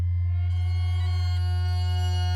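A bagpipe sample tuned by keyboard to match a sine wave oscillator's pitch, heard as a steady, sustained drone with a strong low fundamental and a dense stack of bright harmonics, held alone without change.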